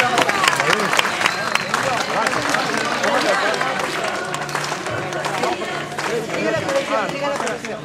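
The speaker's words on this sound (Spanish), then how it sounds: "¡Fuerte las palmas para San Juan Macías!" A crowd claps loudly and steadily through a religious procession for San Juan Macías outside a parish church in Lima, with dense hand-clapping mixed with crowd babble and voices throughout.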